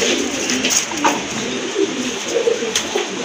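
Lal Dom pigeons cooing softly in a steady low murmur, several birds close by with faint chirps over a constant background hum.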